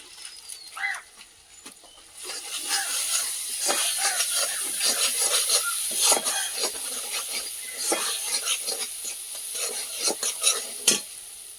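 Spices with turmeric and Kashmiri chili fry in a very hot pan over a wood-fired stove, sizzling and crackling under quick stirring strokes at moderate loudness.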